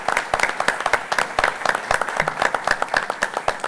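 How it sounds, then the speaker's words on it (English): Audience applause at a school board of education meeting: sustained clapping from a room of people, steady and fairly close, with dense overlapping claps throughout. "I'll give them a round of applause."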